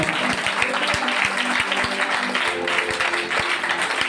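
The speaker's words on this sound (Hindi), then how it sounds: "इसलिए ताली बजाइए" Church congregation clapping in applause during a Christmas sermon, a dense, steady wash of many hands close by, with sharp individual claps standing out over the crowd.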